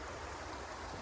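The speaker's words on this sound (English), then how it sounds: "I'll leave you guys with this nice stream" A New Zealand stream flows well downstream from a dam, giving an unbroken, even rush of water at moderate level with no other sounds.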